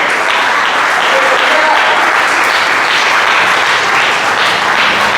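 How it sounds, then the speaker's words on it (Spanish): Loud, sustained applause fills a church as the congregation claps strongly for the Lord, a dense continuous wash of hands with crowd noise mixed in throughout. "Dale un fuerte aplauso al Señor."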